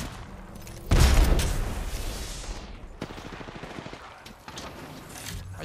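Gunfire in an online shooter video game erupts in a loud burst of shots, then continues as scattered rapid cracks and thumps that fade and recur over the rest of the stretch.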